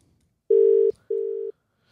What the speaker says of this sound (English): we're ringing Tommy Cronin, everyone